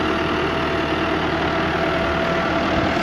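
A tractor engine runs steadily throughout during sunflower planting on a farm field, with a constant low rumble and a faint tonal hum. No talk is heard over it.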